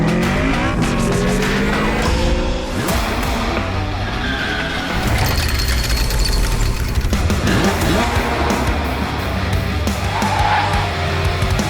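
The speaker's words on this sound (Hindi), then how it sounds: "हम करने जा रहे हैं drag race between 2 wheels and 4 wheels." A BMW i8 Roadster and a 1300cc Suzuki Hayabusa motorcycle drag race, with loud engines revving and roaring close by, tires squealing and skidding, and the noise sustained for about twelve seconds without a break.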